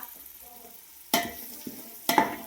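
Onion fries in oil with spices under a low simmering crackle, broken by two sharp, close spatula scrapes and a smaller knock between them, with no talking.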